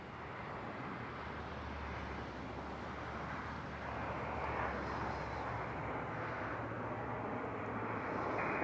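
Jet airliner engines roar at a steady, fairly distant drone during takeoff from Toronto Pearson airport, the rumble building slightly in the second half with no voices present.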